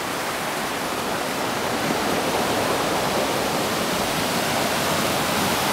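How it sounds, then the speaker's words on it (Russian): River rapids at a strong drop rush and roar in a loud, continuous broadband wash, steady and close throughout with no voices. "Вон там тоже порог сильный."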